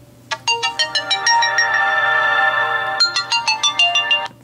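A bright iPhone message notification melody of quick plucked tones, a sustained chime in the middle, then another quick run of notes, loud and close.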